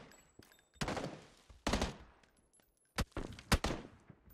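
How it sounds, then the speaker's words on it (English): Gunfire from another player in the battle royale game PUBG, several sharp loud shots in irregular bursts separated by short pauses, with echoing tails and no talk over them. "Someone else shooting me."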